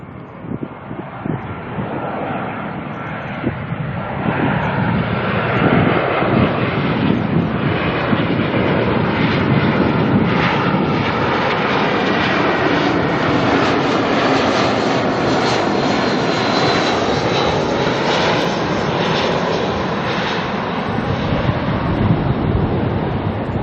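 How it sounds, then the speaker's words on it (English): A Jetstar passenger jet arriving at Auckland Airport from Queenstown, its engines a loud, sustained roar that swells as it nears and stays strong as it passes, with no voices. "Jetstar coming in from Queenstown."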